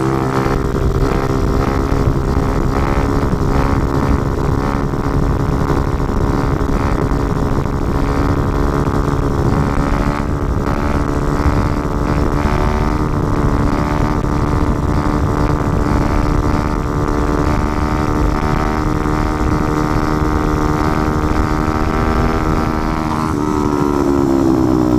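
A motorcycle engine held at steady high revs while the rider pulls a wheelie, a loud, close, continuous drone with a slight rise and fall in pitch near the end and no talk.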